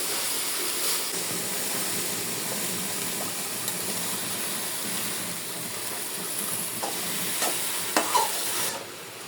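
Shrimp and mixed leafy greens with spices sizzling in a pan while being stirred, a continuous loud hiss and frying crackle with a few scraping clinks near the end.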